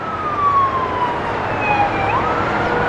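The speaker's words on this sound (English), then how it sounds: "You can tell by the sirens." A distant emergency siren wails in sliding tones in Dayton, faint but clear over low background hum.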